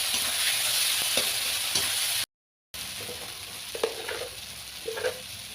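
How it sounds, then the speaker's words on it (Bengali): Ginger, cumin and chili paste for a rui fish curry sizzling and frying in a pan, a steady close hiss with a few stirring scrapes and taps, cut by a brief silent gap partway through. "এবার সুন্দর করে একটু কষাবো।"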